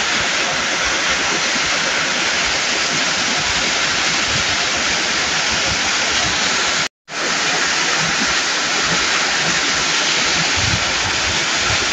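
Panugmakan Falls pours continuously with a loud, dense roar of falling water, the river rushing close by and constant, with a momentary cut in the sound near the middle.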